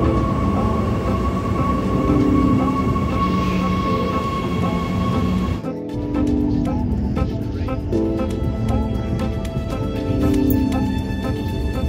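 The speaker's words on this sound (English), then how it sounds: "just waiting for the train" Steady rumble of a train at a platform, with low mechanical hum, faint squeals and clanks, continuous and fairly loud throughout.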